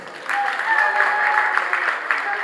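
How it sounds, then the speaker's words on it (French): Wedding reception guests applauding at an evening party, a steady wash of clapping that starts moments in and holds at a moderate, fairly close level throughout, with a few faint voices mixed in. "Est-ce qu'on peut applaudir?"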